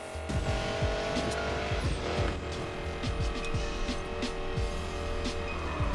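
Engine roar of a race car driven in Need for Speed Payback, loud and steady throughout with rapid gear-shift pulses and brief tire squeals, no talking.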